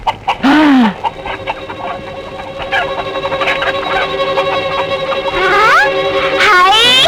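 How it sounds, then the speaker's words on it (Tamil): Chickens clucking and squawking loudly and close by, with repeated sharp calls rising over a steady clucking chatter through the whole stretch. "என்ன சத்தம்? அதுதான் கோழி."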